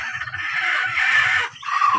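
Free-range village chickens kept on a farm, a rooster crowing loudly and steadily while hens cluck in low bursts underneath, all close by with no talking.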